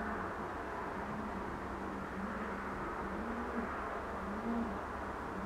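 A Jan Aarden racing pigeon hen coos softly in repeated low rolling phrases, faint against a steady background hiss, with no talking.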